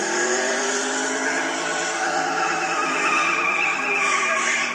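Two newer-model Dodge Dart cars, one a 340, drag race at a 1980s strip in Salmon Arm. Their engines give a loud, sustained roar that rises slightly in pitch as they accelerate close by.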